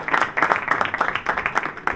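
Under-19 national youth football players clap together for a visiting royal guest, a brief burst of close, dense applause from a small group.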